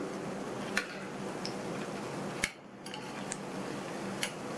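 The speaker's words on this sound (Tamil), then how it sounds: "ஒவ்வொரு போண்டாவையும் திருப்பி போட்டுக்கலாம்" Masala bondas made from idli batter are turned over one by one in a frying pan, giving a few sharp, isolated clinks of a utensil against the pan over a faint, steady background hiss.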